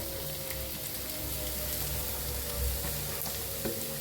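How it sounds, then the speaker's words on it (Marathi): Grated cabbage, onion and green chilies stir-fried in a pan for cabbage paratha filling, a soft continuous sizzle with light crackles and occasional scraping of stirring, close and moderately quiet. "चांगलं हलवून भाजून घेऊया"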